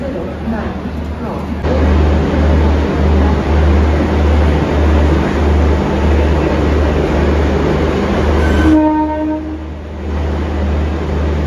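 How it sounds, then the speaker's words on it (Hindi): An Indian Railways train pulls into a station, a loud, steady low rumble and rolling clatter of carriages with a brief horn-like tone near the end, while someone talks over it. "चाय पीते पीते ये देखो हमारी ट्रेन आ रही है अंदर"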